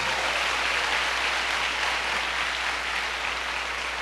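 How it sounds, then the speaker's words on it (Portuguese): A church congregation gives loud, sustained applause to the Lord, a dense, even wash of clapping from many hands that fills the room throughout. "Forte aplauso ao Senhor"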